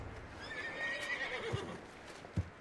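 A horse in Red Dead Redemption 2 whinnies in a long, wavering neigh, followed by a couple of sharp hoof thuds; fairly quiet with no talking.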